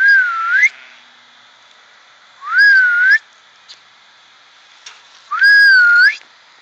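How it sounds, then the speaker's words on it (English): A person whistles outdoors to call, giving three separate rising-and-falling whistles, each about a second long, with quiet pauses between them. "let's try whistling again."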